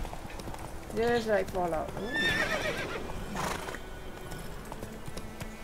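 Roach the horse in a fantasy video game, with hoofbeats and a whinny near the start, followed by steady footfalls under someone speaking briefly.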